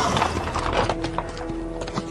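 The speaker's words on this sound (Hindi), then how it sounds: "ऐसा लगा मानो सारे घोड़े दौड़ते हुए गेस्ट हाउस के सामने ही आकर रुक गए थे" Horses galloping and neighing in a horror-story sound effect, with a continuous rumble of hoofbeats and a faint whinny woven through the clatter.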